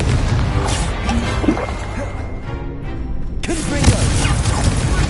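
Blasting spell explosions from Hogwarts Legacy, several loud booming bursts and crashes in quick succession amid dense game combat noise, with brief breaks between blasts.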